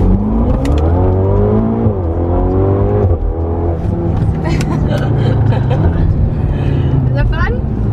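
A Ferrari engine revs and accelerates hard, its loud, rising whine climbing through repeated gear changes over about eight seconds, heard from inside the car with people talking and cheering over it.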